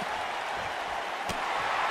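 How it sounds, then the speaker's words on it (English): A large wrestling crowd on its feet roars steadily throughout, a dense wash of cheering and clapping that holds loud and unbroken for the whole stretch. "And you can hear this crowd on its feet."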